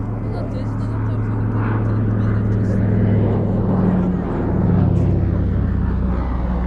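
A World War II aircraft with its wingtip floats extended takes off at an air festival, a loud continuous engine rumble swelling and easing, with a voice speaking over it.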